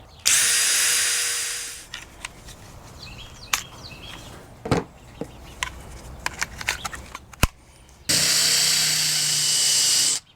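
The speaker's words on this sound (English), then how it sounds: "I'm gonna use the same drill bit that I used yesterday to make these pilot holes." A power drill bores pilot holes through wood for a composting toilet build, with two loud sustained whirring runs near the start and end and scattered knocks and taps of handling in between.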